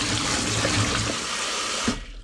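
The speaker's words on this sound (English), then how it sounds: "my next job is to give these a wash in the sink" Tap water running and splashing into a kitchen sink while windfall baby apples are washed, a loud, close, continuous rush that cuts off abruptly near the end.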